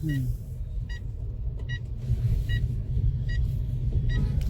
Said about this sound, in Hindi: अच्छा, इंडिकेटर की आवाज।